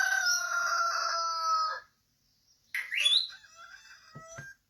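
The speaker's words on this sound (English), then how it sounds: "I can actually hear this as a cockerel crowing in the back." A rooster crows in long drawn-out calls, first one sustained crow, then a pause of silence and a second, shorter crow ending with a couple of clucks, fairly clear and alone.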